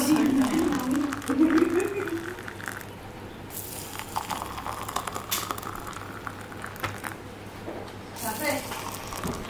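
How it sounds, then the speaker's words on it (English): Hot water is poured for red tea, a soft liquid trickle and bubbling stream near the start fading into quieter splashes, with faint background noise and no talk. "Pouring some hot water."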